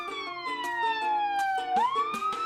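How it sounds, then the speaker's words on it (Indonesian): Wailing ambulance siren passing close by, the repeating tone sweeping downward as it goes past, then jumping and rising again, loud and continuous with no talk over it. "saat mobil ambulans bergerak melewati orang tersebut, pancaran gelombang yang mengenai orang tersebut memiliki panjang gelombang yang besar, sehingga frekuensi bunyinya semakin kecil"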